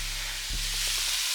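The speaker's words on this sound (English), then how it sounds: "Now we're really getting the cooking going. Hear that sizzle." Food frying in a pan sizzles with a steady hiss, fairly faint and close, with a brief low knock partway through.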